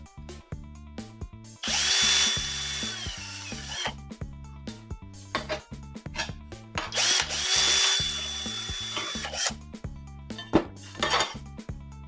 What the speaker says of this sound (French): je vais utiliser directement la visseuse